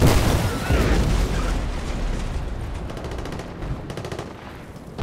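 Rapid automatic gunfire and blasts from Battlefield Bad Company 2 fill the scene, loud and dense throughout with bursts blending into a continuous roar, a voice speaking faintly beneath.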